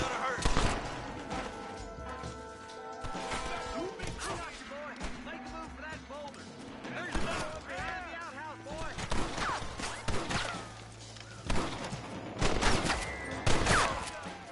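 Gunfight in the Western game Red Dead Redemption: repeated rifle and pistol shots crack in scattered bursts over about fifteen seconds, mixed with game voices shouting over the shooting.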